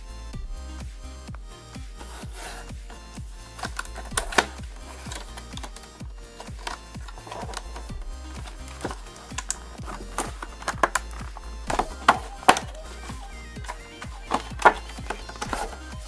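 A pocket tool set is unpacked from its box and foam packaging in a run of crisp clicks, taps and crinkling handling noises, irregular and close, growing busier toward the end, with no talking.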